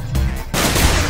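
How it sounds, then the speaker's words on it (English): Gunfire from three opponents in an online capture-the-flag shooter game, a dense burst of loud, rapid shots in two close bursts with a brief gap between them. "Propane going down in a hail of gunfire from the three opponents."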